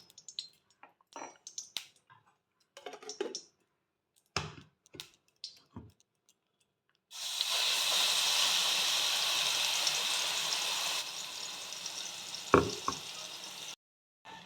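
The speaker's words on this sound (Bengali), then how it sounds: "দেখো, এইভাবে আমি কিছুটা জাল করে নেব আমলকিটা।" Scattered knocks and clatter give way to a steady sizzle of amla (Indian gooseberry) paste cooking in hot ghee in a pan, with a couple of utensil taps before it stops.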